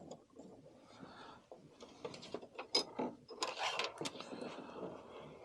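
Mechanical clicking and whirring of a Brother sewing machine with a drop-in bobbin case as the handwheel turns to pull up the bobbin thread, a close, irregular run of small ratcheting ticks and clacks with no talking.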